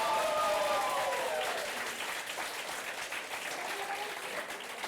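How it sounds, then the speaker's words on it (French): Audience at a high-school quiz competition applauding, a full, continuous round of clapping that fades slightly toward the end, with a faint tonal sound early on. "Applaudissez pour vous encore, s'il vous plaît."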